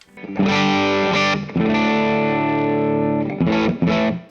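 Electric guitar played through a slightly pushed amp with chorus thickening the tone, sustained chords ringing loud and close with a few short breaks and re-strikes, no voices.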